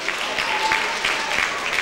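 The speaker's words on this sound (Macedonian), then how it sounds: "Аплаузи за Австралско-Македонскиот театар Преспа од Сиднеј." Continuous crowd clapping from an audience at a Macedonian Ilinden Days community event in Hurstville, Sydney in 1996, even and full with no voices on top.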